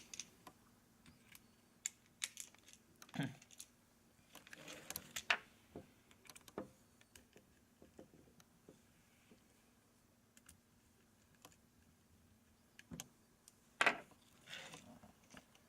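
Motor screws being driven into an airsoft G36 gearbox produce faint, scattered small clicks and ticks of metal parts and a tool, sparse and quiet with pauses between them.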